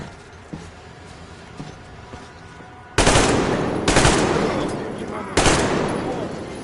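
Gunfire in the video game Metro Exodus, three loud sudden bursts about a second apart that each ring out and decay, after a quieter stretch of background game sound.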